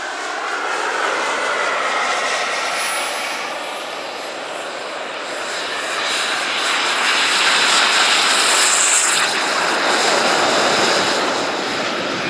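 A scratch-built 1/6-scale turbine F-105 Thunderchief model jet taking off at an airshow, a loud continuous turbine roar and whine that swells and holds for about twelve seconds without speech.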